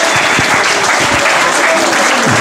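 A crowd at a goat fair in Ardesio claps loudly and continuously, a dense, close wash of applause filling the whole moment.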